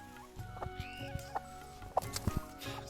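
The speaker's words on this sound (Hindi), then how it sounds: "एक छोटी सी मुर्गी जो कुंकू कुंकू कर रही है।" A small hen clucks in short, scattered bursts while foraging for food outdoors in a Himalayan village in Lohaghat, Uttarakhand, heard close with some background rustle and no talk.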